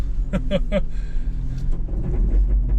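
A 2024 Toyota 4Runner's engine revs in thick mud, a deep close rumble with three quick throttle blips at the start, then a sustained heavier surge of power as it pushes on.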